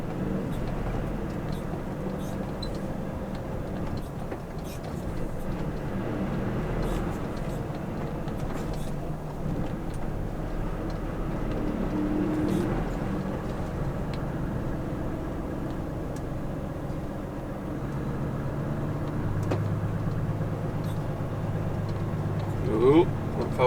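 A truck rolls off the road into a soft, boggy field, its engine rumbling steadily and loudly throughout, with a voice talking over it and a brief bump near the end.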